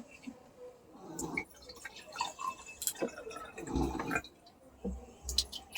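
Salted water poured from a steel-spoon-stirred vessel into two containers, heard as intermittent splashing and trickling pours with drips and light clinks, moderately close and fairly quiet.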